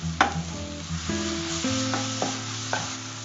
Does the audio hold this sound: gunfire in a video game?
no